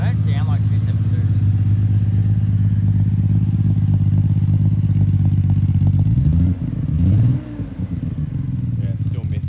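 A Nissan GTR engine runs close by with a steady, deep idle, then blips into a few quick revs near the end, with brief voices in the background.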